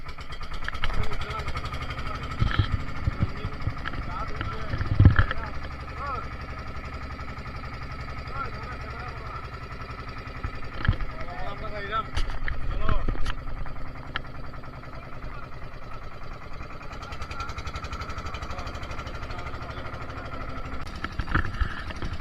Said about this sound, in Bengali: মোটর স্টার্ট হয়েছে